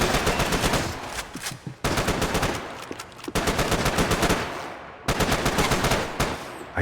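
Automatic gunfire in the Max Payne 3 shooter game on PC, loud rapid bursts of shots repeating in several volleys separated by brief gaps.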